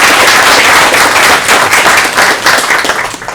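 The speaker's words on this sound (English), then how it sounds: "I want to give a round of applause to those" Sustained, dense clapping from a crowd honoring 17 graduating seniors in skilled trades, loud and continuous throughout with no speech over it.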